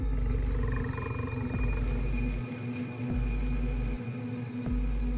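A deep, drawn-out animal roar for a wolf in an animated jungle story, loud and sustained with a low rumbling tone and a few soft pulses, heard alone.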